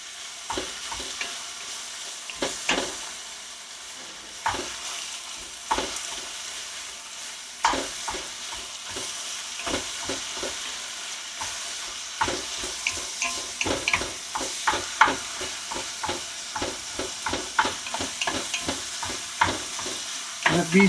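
Ground beef frying in a pot for tailgate chili sizzles steadily while a spoon scrapes and stirs in irregular bursts, the clatter growing busier and louder toward the end.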